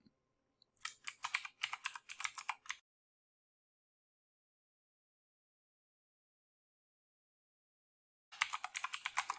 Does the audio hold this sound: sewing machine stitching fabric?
no